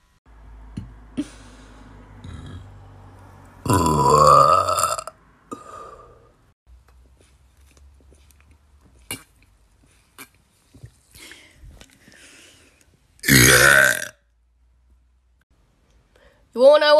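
Two loud, drawn-out burps, each about a second long, rise out of a quiet room, with scattered clicks and brief bits of talk in between.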